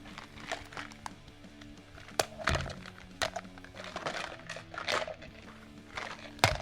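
Ice Breakers gum containers being shaken, scattered rattles and sharp popping clicks at irregular intervals over a low background hum, fairly quiet and close.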